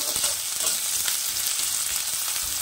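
Garlic paste fries in a pan while being stirred, a close, continuous sizzle with a few soft utensil scrapes in the brief stretch. There is no talking.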